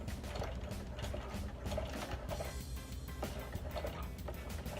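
Sewing machine stitching slowly over thick decorations, a dense mechanical chatter of clicking and grinding gears running steadily and close throughout.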